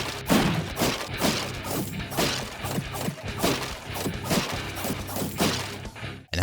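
Wooden chests smashed one after another in Baldur's Gate 3, a dense, loud barrage of rhythmic thuds and cracking crashes that continues steadily with barely a pause, with no talk.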